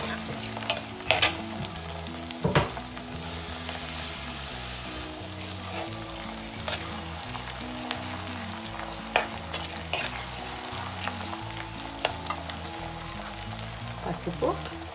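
Tomato added to onions frying in a pan for turkey berry pulusu: a steady sizzle runs throughout, with occasional sharp clinks and scrapes of a stirring spoon.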